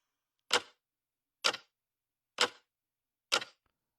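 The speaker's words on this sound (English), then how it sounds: "Got a good ticking clock here." Four crisp, evenly spaced clock ticks about a second apart, close and dry against silence, used as a sample in a music production session.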